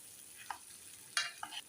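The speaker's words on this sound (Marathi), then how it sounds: "मी भाजी पुन्हा एक वेळा छान मिक्स" A vegetable curry is stirred in a pan, giving a few soft scraping and clinking strokes over faint low background, quiet and close.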